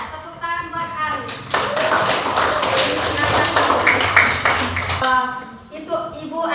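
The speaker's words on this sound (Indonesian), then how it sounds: "Tepuk tangan buat Aris." Classroom children applaud a student together, a dense burst of clapping lasting several seconds between stretches of a teacher's voice, loud and close.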